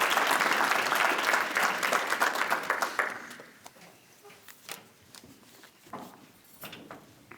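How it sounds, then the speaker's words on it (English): An audience at a Kiwanis awards ceremony in Muskegon claps in a loud burst of applause that fades after about three seconds, leaving scattered claps and light room noise. "And you can give them a round of applause."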